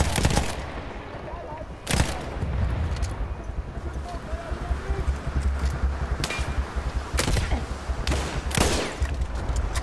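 Machine gun fire in Battlefield 1, sharp bursts and single loud shots at irregular intervals over a busy battlefield din with distant gunfire, while a person talks in between.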